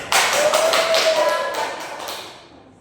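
Classroom applause for a student: a short burst of clapping hands from a group of pupils, fairly close and lively, fading out over about two seconds.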